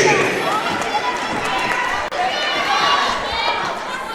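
Gym crowd noise at a girls high school basketball game in a home arena, with a steady wash of chatter, shouts and squeaking sneakers on hardwood filling the whole stretch at close range.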